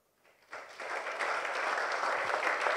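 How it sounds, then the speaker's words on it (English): Audience applause at a triathlon press conference, rising from quiet into steady, dense clapping that fills the room and holds through to the end, with no voices over it. "he would like us to please applaud Yves Cordier and Andrew Messick"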